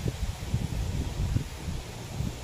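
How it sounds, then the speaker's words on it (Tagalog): Strong wind gusting through coconut palms during a storm, a steady broad roar with rumbling low buffets rising and falling throughout, close and fairly loud. "Ang lakas kasi ng hangin, oh."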